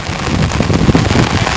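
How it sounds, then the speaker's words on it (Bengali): Heavy rain pours down during a football match, a dense, even roar of falling water that stays loud and unbroken across the short stretch. "মুষলধারে বৃষ্টি চলছে"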